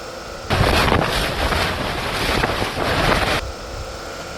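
A small electric fan, grounded to a pin during a K24 engine car project, switches on and blows air with a steady, loud rushing whoosh for about three seconds, then cuts off abruptly.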